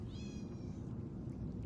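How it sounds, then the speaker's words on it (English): A single drawn-out cat meow rises and fades early on, followed by a low, steady hum. "stop meowing at me"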